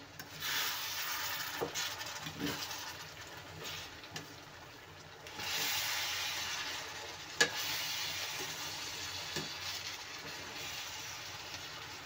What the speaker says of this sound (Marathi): आता आपण हे मिक्स करून घेऊया व्यवस्थित